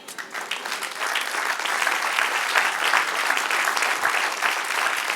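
Steady applause from a large church congregation fills the space, continuous and fairly loud throughout with no talking over it.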